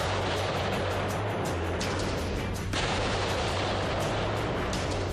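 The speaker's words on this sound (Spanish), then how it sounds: "Con estas explosiones, la policía ponía fin a esta pista clandestina de la droga" Police blasts destroying a clandestine drug airstrip in Peru after seizing a Bolivian-registered narco plane: a dense, continuous roar of explosive rumble and crackling debris with a low steady drone, loud throughout and briefly surging near the middle.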